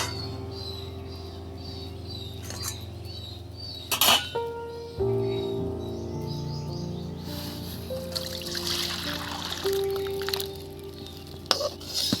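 Bottle gourd lentil dal poured into a pan, a steady liquid trickle and squish with a few clinks, and birds chirping faintly in the background.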